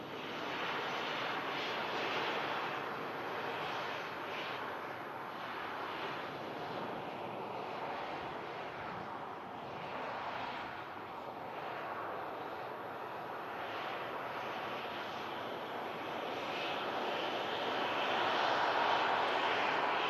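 Ryanair and EasyJet jet engines rumble at Manchester Airport in thick fog as one plane lands and another taxis. The roar is a steady, distant wash that swells slightly toward the end.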